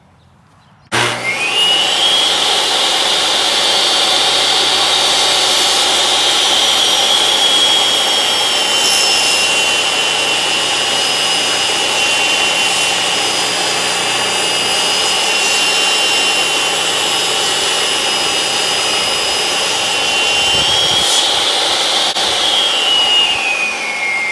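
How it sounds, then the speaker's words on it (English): A table saw spins up and runs freehand through a wooden board for an Adirondack chair, producing a loud, continuous high whine with a steady cutting tone that lasts over twenty seconds before winding down. "rather than cutting it with the jigsaw, I'm just gonna freehand it on the table saw."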